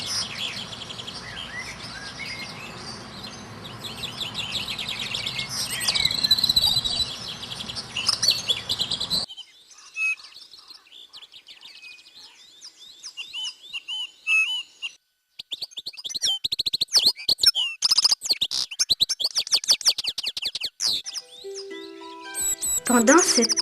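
Tits and other small birds chirp and tweet together in a dense, overlapping chorus, bright and close, broken by brief quiet gaps and bursts of louder twittering.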